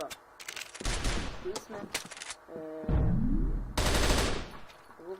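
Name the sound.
gun firing in a video game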